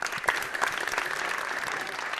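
Studio audience applause at a Mauritius Broadcasting Corporation television show, a dense steady clapping from a crowd lasting the whole moment, with no talking over it.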